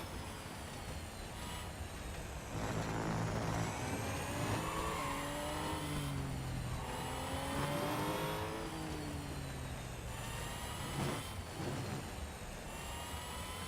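Race car engines roaring during a multiplayer race in Real Racing 3, a continuous loud drone with rising and falling revs as cars accelerate and brake, no talk.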